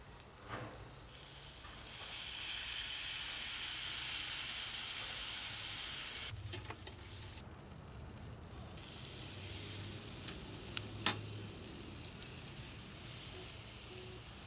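Chicken breast sizzles on a grill while being basted, a steady hiss and crackle that swells loudly then eases, with scattered pops and light clicks, nearby and with no talk.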